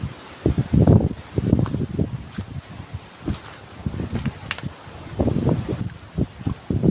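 Strong wind blows across an outdoor forest fishing spot during the rainy season, buffeting the microphone in repeated low, rumbling gusts that rise and fall irregularly and loudly.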